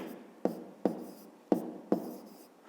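Pen or pencil strokes on paper while a math answer is written down: four distinct taps or scratches spaced roughly half a second apart, each with a short scratchy tail, close and fairly quiet with no talking.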